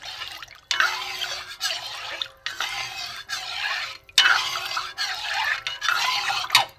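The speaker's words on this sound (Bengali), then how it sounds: "অনবরত নাড়তে হবে, নাহলে বসে যাবে।" A spoon stirs semolina through boiling water in a cooking pot, making soft wet scraping and sloshing in close, uneven bursts with brief pauses between strokes.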